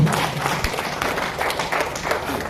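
Audience applause at a seminar, a steady patter of many hands clapping throughout.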